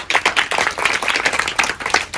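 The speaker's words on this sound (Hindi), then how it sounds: "एक बार उसके लिए भी जोरदार तालियां।" An audience at a children's charity foundation event breaks into brisk, lively clapping, a dense burst of many hands that stays loud and close throughout.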